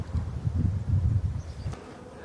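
Black honey bees swarm over an open beehive, their low, steady buzzing filling the air close by and continuous, with no voices present.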